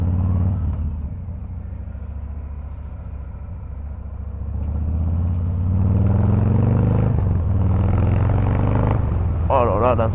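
Deep, constant engine drone of a Harley-Davidson Fat Boy 114 motorcycle cruising in sixth gear at about 2000 rpm, swelling louder midway, with a rider talking over it.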